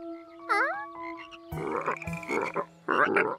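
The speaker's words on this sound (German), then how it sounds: "Vielleicht verscheuchten die lauten Frösche die Kaulquappen mit ihrem Gequake." Cartoon frogs croaking loudly by a pond, with a bouncy pitched call followed by several raspy, bursting croaks in an uneven rhythm, close and unaccompanied by talk.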